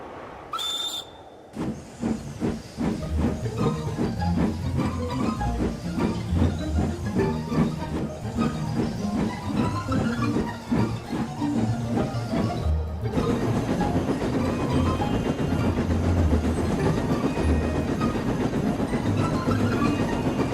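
A long fish train races down the line in the Trainz railway game, a loud steady rumble with a rhythmic clatter of wheels over rail joints, a short whistle at the start and a smoother roar later.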